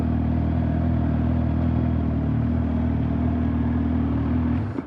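A motorcycle being ridden gives a continuous, loud engine drone blended with road and wind rumble, holding steady before dropping off sharply at the end.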